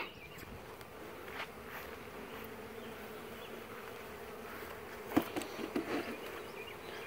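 Honeybees buzz continuously around the listener, a soft steady drone with a few louder passes and light rustling near the end.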